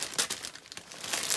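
Dried Spanish moss handled for a thrifted cedar picture craft gives soft, close crinkling and faint tearing, alone and fairly quiet, in irregular bursts.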